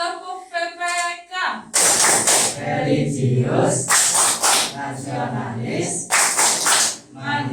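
Students in a class perform Tepuk PPK, a patterned rhythmic clap, with loud bursts of group clapping between chanted words spoken together.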